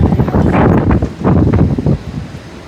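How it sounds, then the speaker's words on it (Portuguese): Strong hot wind on a sandy walk near a fort, gusting in loud rushing surges that buffet the microphone, easing toward the end. "É um vento extremamente quente."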